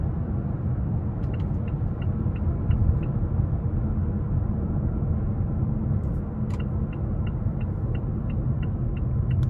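A 2021 Mazda 6 Carbon Edition's turbocharged engine pulls under acceleration as a low, steady rumble heard from inside the cabin, with faint ticking clicks in the background.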